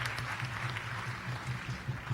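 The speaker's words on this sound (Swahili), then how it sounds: "Tupigie Yesu makofi." A church congregation at a Kikuyu worship service claps together for Jesus in a steady, dense, sustained round of applause over a low background hum.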